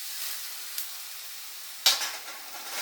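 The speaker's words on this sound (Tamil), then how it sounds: "நல்லா இதுவும் எண்ணெயிலேயே பச்சை வாசம் போகிற அளவுக்கு நல்லா வதங்கணும்." Grated amla with a little sambar powder sautés in oil for amla rice, a soft steady sizzle broken by light stirring and one sharp utensil clink near the end.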